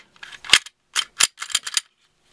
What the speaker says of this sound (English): Barrel, recoil spring guide rod, bring slide to slide rails